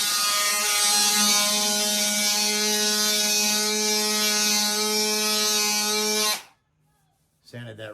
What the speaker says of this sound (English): that's a solid epoxy that I'm actually sanding on right now